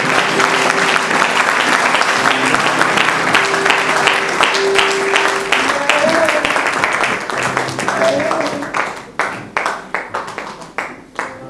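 A church congregation at a night worship service in Melun claps loudly and steadily, dense sustained applause, with voices and music underneath, thinning into scattered claps near the end.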